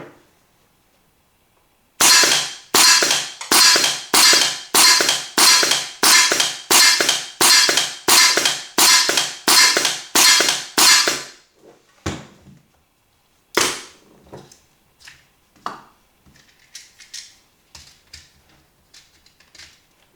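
An FX semi-automatic airgun firing pellets in a rapid, evenly spaced string of about fifteen sharp, loud cracks, followed after a pause by a few more scattered shots and faint clicks.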